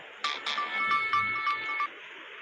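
A phone ringtone plays a short melodic pattern of bright tones for about two seconds, moderately loud, with no talking.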